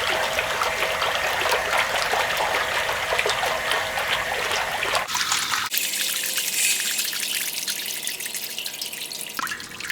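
Water running steadily into a plasma cutting table's water tray, a continuous broadband rush and trickle that shifts partway through to a thinner, quieter flow with the low end dropping away.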